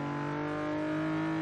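Steady engine drone from a Hyundai Genesis with a V6 in Forza Motorsport 6, holding a sustained, fairly even pitch with no sharp revs, heard alone without talk.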